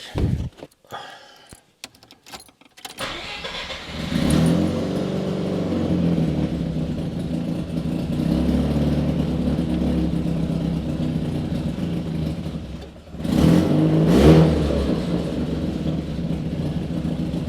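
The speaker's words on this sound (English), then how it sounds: "the car starts, and the idle already sounds better" A Mazda RX-7 FC3S rotary engine cranks with a few sharp bursts, catches, and settles into a steady, close, rumbling idle, with a brief rev swell near the end.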